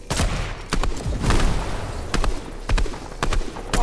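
Rapid video game gunfire fills the moment, loud sharp volleys of shots and bursts cracking in quick irregular succession with almost no talk.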